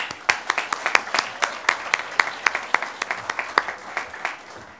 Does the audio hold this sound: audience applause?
yes